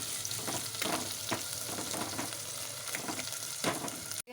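Onions frying in oil in a pan for a quick curry give a continuous, fairly soft sizzle. Occasional stirring scrapes and bursts break through before the sound cuts off abruptly.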